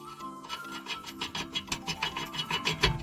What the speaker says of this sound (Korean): 너트 잠궈줍니다.